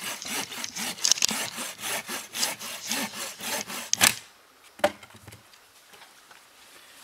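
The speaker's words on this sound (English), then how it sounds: "Let me just keep filming you sawing the wood." Hand saw cutting wood at a riverside campsite on a canoe trip, a steady run of rhythmic back-and-forth strokes close by that stops abruptly partway, followed by a couple of faint knocks and quiet.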